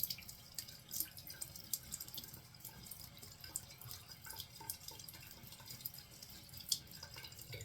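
A bathroom tap runs steadily while a Gillette Super Speed safety razor is rinsed under it, a continuous splashing hiss with scattered drips and small splatters, alone and close.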